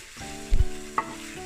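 Apples caramelize with brown sugar and cinnamon in a hot pan, a close sizzle with a couple of quick stirring knocks and scrapes over a second and a half.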